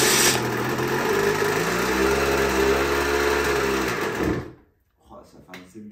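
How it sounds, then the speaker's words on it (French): A Sherco moped with a 70cc cast-iron kit and 44mm stroke runs up close with a buzzing, rising engine note and a knocking piston, then cuts out abruptly into near silence with a few faint clicks. "ça fait un petit bruit de clac-clac, de piston qui tape"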